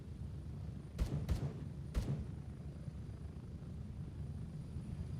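A helicopter in a video game makes a steady low rotor rumble throughout, with three sharp broadband impacts near the start, like shots or hits, standing out over the drone; no one speaks.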